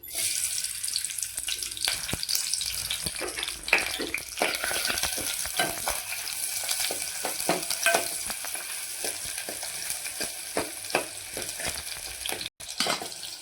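Chopped large onions sizzle and crackle steadily in a hot pan for a Tamil mutton kulambu, with occasional stirring scrapes and clinks running through the close, continuous frying.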